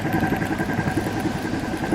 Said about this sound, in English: So here's the sound of the oiled bearings